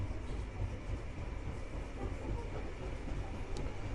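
Inside an electric passenger train near Valencia, a quiet continuous rumble of the carriage rolling along the track with faint rhythmic clatter, steady throughout and without voices.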